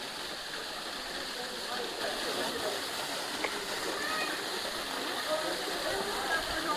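Waterfall near the sea cliffs at Apsarakonda, a steady broadband rush of falling water with splashing, continuous and fairly close throughout, with no clear talk over it.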